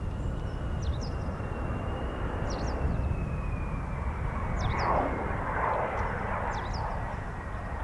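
An F-35B stealth fighter jet lands nose-high at an RAF air station, using aerodynamic braking. Its steady, broad jet roar runs throughout, swelling slightly midway, with faint high chirps over the top.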